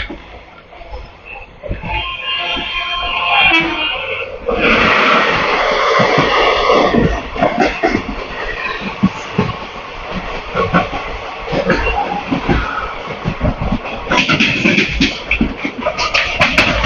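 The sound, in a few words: Indian deluxe tourist train arriving at Tambaram station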